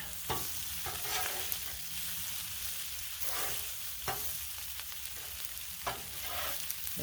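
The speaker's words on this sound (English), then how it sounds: "And I'm going to give this a stir." Cajun fried rice stirred on a Blackstone griddle: a spatula scrapes and pushes the rice in repeated strokes over a constant close sizzle, with no talking.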